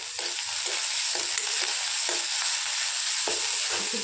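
Ginger, garlic and chili paste frying in a pan with browned onions for a village-style ol (yam) curry, a continuous bright sizzle broken by soft scraping stirs, no talking.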